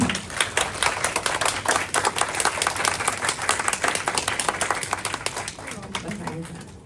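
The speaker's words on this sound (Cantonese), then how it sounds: "咁我哋俾啲掌聲歡迎多福嘅。" An indoor audience claps in welcome for a speaker at a talk on stress and emotions, a dense steady round of applause that gradually thins near the end.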